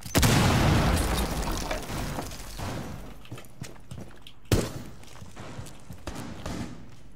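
A wall blown apart in Rainbow Six Siege, a loud close boom at the start that decays into rumbling debris, then scattered thuds and a second sharp blast midway, with no talk.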